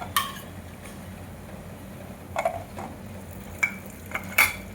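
Ground-lentil dal vadas are lifted out of hot frying oil. A quiet, steady sizzle runs under a few light, close metallic clinks and taps from the slotted spoon.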